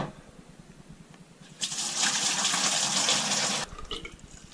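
Homebrewed beer wort, a Black Tokyo Horizon clone, pours through a sterilised strainer in a dim cellar for aeration, a steady close splashing rush of liquid lasting about two seconds, with quieter trickles before and after.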